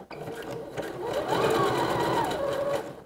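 A sewing machine runs a short burst of stitching, tacking a swimsuit strap in place. It whirs close and steady for a couple of seconds before stopping.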